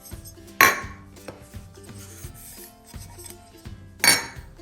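Brown and granulated sugars go into a small bowl for cinnamon cookie topping: two sharp clinks at the start and end, with soft gritty rubbing and light taps between, close and without talk.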